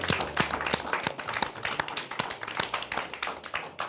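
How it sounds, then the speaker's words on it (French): Audience clapping after a theatre play before a debate, distinct individual claps in an uneven rhythm from a small crowd, close and moderately quiet. "je vous demande d'applaudir Lauriane, Antoine et Pierre, s'il vous plaît"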